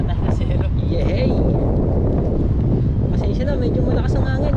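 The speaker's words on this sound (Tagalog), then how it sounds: "medyo malakas ang hangin" Strong wind roars and buffets the microphone continuously and loudly, with muffled voices and faint higher tones mixed beneath it.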